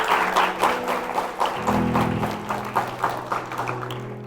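A church congregation applauds during a Portuguese-language sermon, a steady moderate wash of many hands clapping, with a sustained low tone, probably organ or keyboard, underneath from midway.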